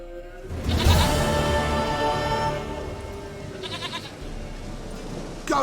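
A goat in The Witcher bleats in a few short, nasal calls, one loud near the start and fainter ones later, over ambient game music and background sound with no talking.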